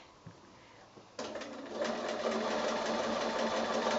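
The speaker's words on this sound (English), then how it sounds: "ready to start sewing the binding on" A sewing machine starts up after a quiet pause and runs steadily up close, stitching binding onto a quilt with a continuous whirring hum.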